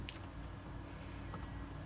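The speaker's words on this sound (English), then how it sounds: "And it does beep" A thin, steady electronic beep tone from an electrical continuity tester, checking connections on a Honda LS100 motorcycle, sounds for about half a second, quiet beneath a constant background hum.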